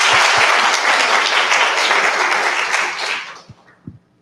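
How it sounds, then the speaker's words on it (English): Audience applause at an education conference panel, a dense burst of clapping that is loud at first and then thins out to a few scattered claps near the end. "So let's give them a round of applause."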